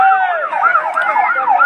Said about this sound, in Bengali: ফায়ার সার্ভিসের গাড়ি দেখা যাচ্ছে